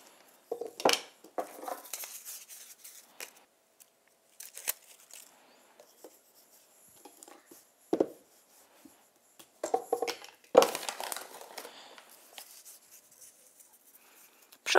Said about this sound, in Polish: wycięte włosy z papieru i wycinam kształt